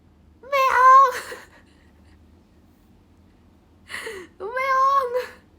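A voice imitates a cat's meow, giving a drawn-out mewing call, a pause, then two more meows in quick succession. The calls are close and clear against a quiet indoor background.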